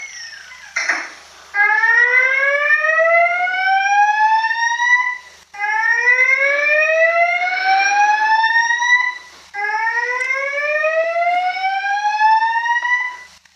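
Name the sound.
fire alarm during fire drill in Avatar World video game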